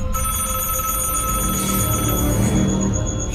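An old telephone bell rings continuously even after being disconnected, a loud bright metallic trill sustained close by without pause, no voices over it.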